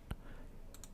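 A computer mouse clicking near a desk, two or three sharp dry clicks, one early and a quick pair near the end, faint against quiet room noise.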